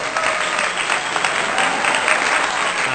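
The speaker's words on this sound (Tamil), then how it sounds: "பெரிய கைத்தட்டல் கொடுத்துருங்க." Women gathered at a temple puja for a special new-moon worship clap together in steady, dense applause that stays loud for the whole stretch, with faint voices mixed in.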